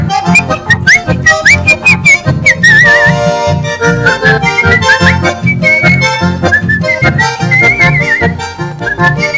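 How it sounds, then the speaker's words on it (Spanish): Melodic whistling with wavering pitch runs over a steady, full musical backing, carrying on continuously without pause. "Y él silba y silba y silba"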